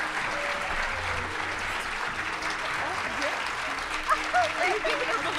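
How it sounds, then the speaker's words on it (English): Audience at a STEM awards ceremony applauds with a steady, moderately loud wash of clapping hands that holds evenly, while a voice speaks faintly over it near the end. "So can we just give her also some encouragement and a round of applause?"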